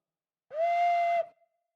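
A homemade recorder sounds a single sustained note for under a second, shrill and breathy with a whistle-like tone, alone against silence.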